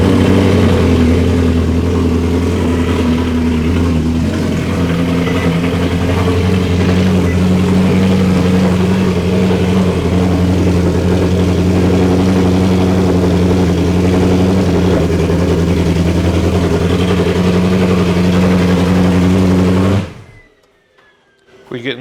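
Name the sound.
Ferrari 458 engine running after intake manifold install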